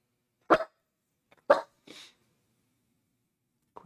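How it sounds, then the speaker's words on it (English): Indoors, a dog gives a few sharp, close barks spaced about a second apart, then a softer huff, with a short final bark after a pause in otherwise quiet surroundings. "Quit barking at me, bud."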